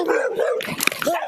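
A dog barks sharply during a tense police use-of-force arrest: a short, loud, close burst of barks with whimpering tones after a stretch of other noise.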